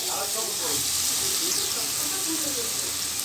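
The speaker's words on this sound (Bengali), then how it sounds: "আমি এখন সবগুলো সবজি এখানে দিয়ে দিব।" Chopped cabbage, potato, carrot and other vegetables hit a hot pan with a steady, dense sizzle and steamy hiss, close and continuous, with faint stirring underneath.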